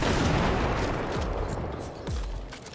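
Gunfire from a weapon in the video game Cyberpunk 2077 that reloads after each shot, a couple of loud booming shots with echoing tails against a dense, noisy game background.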